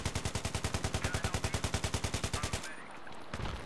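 Rapid full-auto bursts from an AK-74M rifle in a video game, a steady close and loud string of about thirty evenly spaced shots that stops abruptly, followed by a brief short burst.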